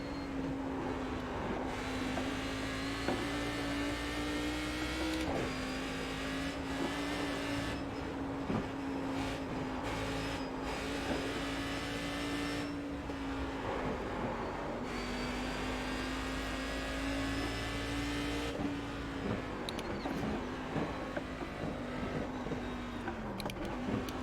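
Cadillac CTS-V race car engine lapping Bathurst in the iRacing sim, a steady high-revving drone held near constant pitch throughout, with brief dips and rises at shifts and corners, loud and unbroken with no talk.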